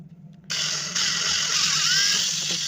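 Screws being tightened while building a water electrolysis device, a close mechanical whirring and ratcheting that starts suddenly and runs steadily.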